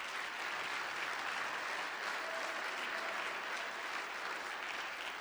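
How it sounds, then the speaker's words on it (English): Steady audience applause at a speaking event, an even wash of many hands clapping at moderate distance, continuing without a break and with no talk over it. "Let's give Chad a round of applause."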